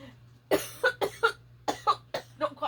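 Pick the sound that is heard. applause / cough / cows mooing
cough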